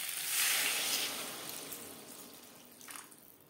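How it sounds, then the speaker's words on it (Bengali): Water poured into a pan of fried papaya for a vegetarian curry, a soft hissing splash at first that fades, followed by a brief second burst near the end. "পেঁপে ভেজে নেওয়ার পর এবার দিয়ে দেবো জল।"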